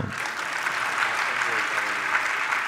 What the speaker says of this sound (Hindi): हाँ बिल्कुल, ताली तो बजा दो।